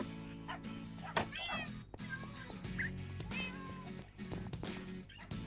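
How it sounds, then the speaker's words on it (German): A cat in the Minecraft video game meows repeatedly over several seconds, the calls rising and falling in pitch, close and clear above a busy game background with other short in-game noises. "Komm, Kitty."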